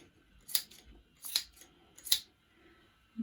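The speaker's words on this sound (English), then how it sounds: "you can spend as long as you want just trimming, brushing them out" Scissors trimming the fringe of a macramé diamond-pattern wall hanging, three crisp close snips spaced evenly apart against quiet room tone, with the start of a fourth at the very end.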